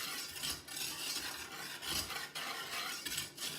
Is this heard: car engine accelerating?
no